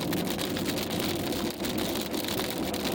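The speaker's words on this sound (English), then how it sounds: "I think there's still a little bit of hail embedded in this rain too" Steady heavy rain drums on a car while driving between Denver, Colorado and Albuquerque, New Mexico, a dense continuous patter with occasional sharper hits from small hail mixed in, close and loud throughout without talk.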